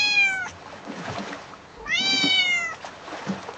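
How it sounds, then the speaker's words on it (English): A cat meows loudly twice, each a long rising-then-falling wail separated by a pause, close up over a faint watery trickle in the background. "Flipsy meowed loudly"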